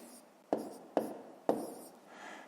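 A pen or pencil writes out long division by hand on paper, three distinct close scratchy strokes followed by a softer trailing scrawl, quiet and without talk.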